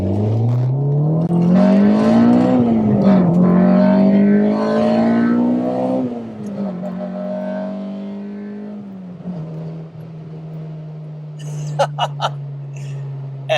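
Honda Civic VTi EG6 with a DOHC VTEC engine revs hard while driving, its note climbing and dropping through gear changes before settling into a steady drone, with a few knocks near the end.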